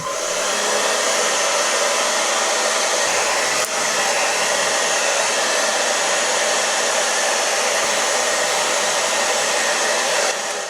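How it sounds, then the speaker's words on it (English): A hair dryer drying fabric paint base coat on a denim jacket blows steadily and loudly throughout, a constant broadband whoosh with a brief dip partway through. "After hitting it with the hair dryer and drying the base coat"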